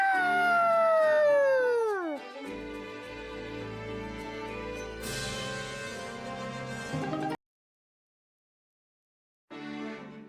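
A video game character imitates a wolf howl, a loud voice sliding downward from a high pitch over about two seconds, then a cut to busy game music and effects that stop abruptly before a short final burst.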